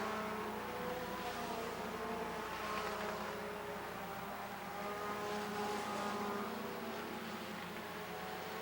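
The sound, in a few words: race cars coming out of turn 4 at Rockford Speedway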